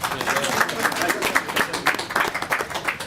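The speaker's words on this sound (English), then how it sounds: "Yeah, we can clap for that." A short burst of scattered hand clapping from a small group at a city council work session, uneven and crowd-like, with a murmur of voices mixed in.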